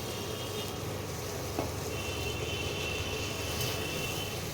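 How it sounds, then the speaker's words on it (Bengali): Spice masala being sautéed in oil for a potato kofta curry, a steady close sizzle and frying hiss running throughout with faint stirring, no voices. "এবারে মশলাটাকে ভালোভাবে কষাতে হবে যতক্ষণ না তেলটা মশলা থেকে আলাদা হয়"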